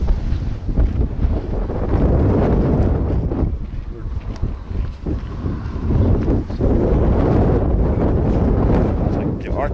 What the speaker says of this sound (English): That wind is killer.